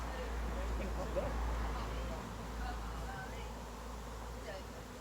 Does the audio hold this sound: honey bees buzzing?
yes